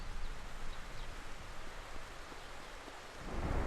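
Rain hisses steadily in the DayZ video game, and a low rumble of thunder swells near the end, with no talking.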